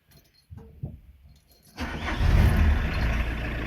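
A car being started on its first crank after an oil pressure gauge is fitted: a few clicks and rattles, then the engine catches and settles into a loud, steady close idle.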